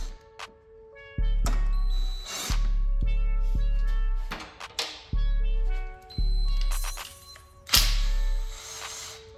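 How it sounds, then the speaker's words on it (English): A power tool backs out two 10 mm bolts on an H23A/B16-swapped Honda Civic during a ground kit install, whirring in about six short bursts separated by pauses with metallic clinks and taps. "So I'm gonna take these two 10 mil bolts out."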